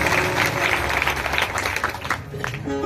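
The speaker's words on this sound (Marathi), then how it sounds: "जोरदार टाळ्या त्यांच्यासाठी सुद्धा." An audience at a Shiv Puran religious discourse applauds, a dense burst of clapping that fades toward the end as a tonal instrumental note enters.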